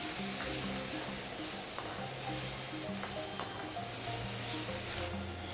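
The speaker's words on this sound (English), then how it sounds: "Because we are cooking on high flame, it is must that we keep the stirring continued." Prawns stir-fry on a high flame, a dense continuous sizzle with steady stirring, heard close and fairly quiet with no one speaking.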